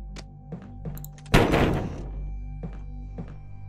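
Fresh lettuce thrown onto the floor in a video game lands with one loud, dull thud and a short crunchy spray, set among faint clicks and a low background hum.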